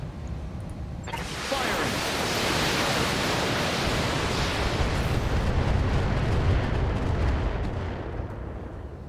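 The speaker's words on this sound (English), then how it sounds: "Let's just do indirect fire here." Indirect artillery fire in the mech game BattleTech builds into a long, loud rumbling barrage of overlapping blasts, a dense roar that holds steady for several seconds before slowly easing.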